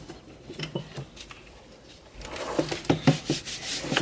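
Alcohol-based dye being rubbed into leather cosplay straps, soft scattered rubbing and tapping that starts faint, then grows louder and busier with quick scuffing strokes in the second half.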